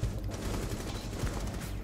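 Rapid automatic gunfire rattles continuously in the video game Rainbow Six Siege, a loud, dense stream of shots filling the whole moment.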